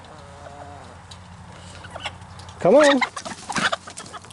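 Chickens cluck softly in the background, then a loud burst of squawking erupts nearby as a rooster scares them, with a few brief spoken words mixed in.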